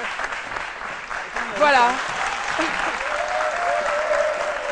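A television studio audience applauds to send off a guest on a midday show, continuous clapping filling the clip while a host speaks briefly over it.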